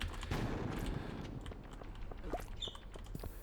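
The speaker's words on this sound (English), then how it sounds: "this is one of those floors where I'm just going to plaster this whole thing with bombs" Bombs going off in the Skull Cavern mines of Stardew Valley: a cluster of low, rumbling blasts early on, followed by scattered softer pops and small game chimes at moderate level.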